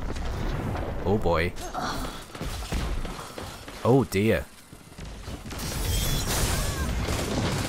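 Several muffled grenade explosions and thuds burst amid Destiny 2 game noise, with a man briefly exclaiming in between.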